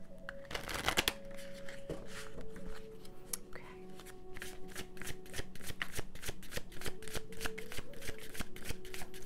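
Close, busy shuffling of tarot cards with rapid papery flicks and taps, a denser burst early on, then a steady rhythmic shuffle with faint background tones.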